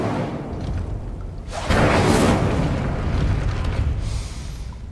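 Incendio fire spell erupting in Hogwarts Legacy: a loud whooshing burst of flame that swells suddenly, roars for a few seconds, then slowly trails off.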